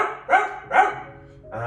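A person's voice imitates a little puppy dog with two short, bright yapping barks followed by a longer whine, close and clear, during a beginner yoga session for children.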